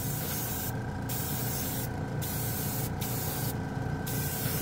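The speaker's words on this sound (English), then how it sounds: "It atomizes the paint really nice." Short bursts of fine, airy hissing from an airbrush spraying paint, four or so quick puffs in an uneven rhythm, close and fairly loud.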